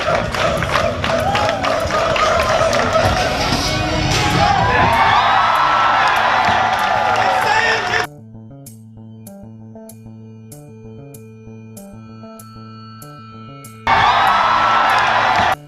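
At a pole vault meet, a team claps in rhythm and a crowd cheers and whoops loudly for about eight seconds. The sound then cuts to quiet background music before the crowd noise briefly returns.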